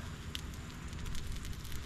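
Campfire burning by a river, a low steady roar of flames with faint scattered crackles, close and fairly quiet.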